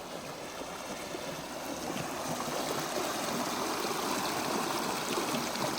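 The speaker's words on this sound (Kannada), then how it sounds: "ನೀರು ಯಾವ ರೀತಿ ಹರಿತಾ ಇದ್ದಾವೆ" Water flows steadily through a small stream in a farm field, a continuous close rushing and trickling that grows slightly louder after the first couple of seconds, with no voices.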